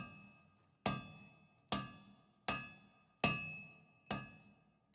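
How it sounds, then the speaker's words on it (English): Hammers strike metal in the Pillars of Eternity video game, ringing out six evenly spaced metallic chimes that fade after each blow, clear and alone. "Distantly, you hear the melodic chime of metal on metal and the low chorus of a work song."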